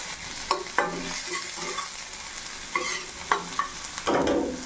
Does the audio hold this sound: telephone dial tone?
no